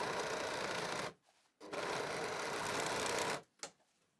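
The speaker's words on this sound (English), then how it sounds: "I will now take this to the serger and simply sew here the shoulder seams." A serger runs in two long continuous bursts stitching the shoulder seams of a workout dress, with a pause between them and a brief final whir, close and steady.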